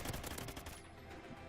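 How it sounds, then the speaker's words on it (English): A light machine gun firing in a video game, a rapid burst of sharp, evenly spaced shots that stops partway through and leaves a lingering tail, close and clear with no voices. "Because I'm camping with an LMG."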